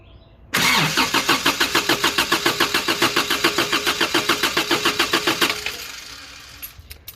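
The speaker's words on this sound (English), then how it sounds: "I'm starting it with the restarter relay" A Toyota engine is cranked through its restarter relay, making a long run of steady, rhythmic starter churning for about five seconds before the engine catches and settles into a quieter idle. The sound is close and loud, with no talk over it.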